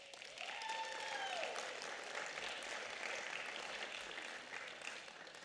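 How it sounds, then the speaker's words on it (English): Sustained applause fills a county board of supervisors meeting hall, with a faint voice briefly audible over the steady clapping. "Please give her a round of applause."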